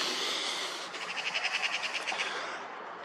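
A magpie calls outdoors at night, a quick run of rattling chattering notes in the middle of the stretch over a faint steady background hiss.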